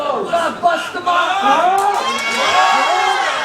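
A wrestling event crowd roars and cheers continuously, loud and close, with shouts and whoops rising over a steady din throughout.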